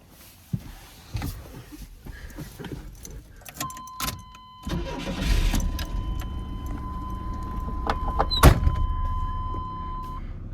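A Chevy vehicle starting up and running: clicks and door or window sounds, then an engine idling and rising into a steady, close rumble with a high whine and a sharp knock near the end.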